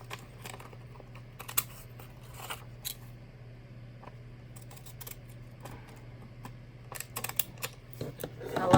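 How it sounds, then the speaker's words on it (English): Small scissors snip paper in short, irregular bursts of crisp clicks, fairly close and quiet, with a steady low hum underneath. "I love those little scissors."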